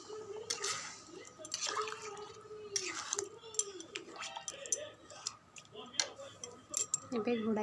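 Water goes into a chickpea and pumpkin curry with splashy pouring, dripping and light utensil clinks, close and uneven, while a voice is faintly heard underneath.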